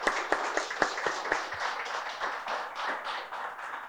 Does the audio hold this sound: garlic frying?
no